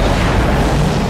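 A film explosion from the 1988 action movie Die Hard, a dense, loud, sustained low rumble and roar filling the whole moment without voices.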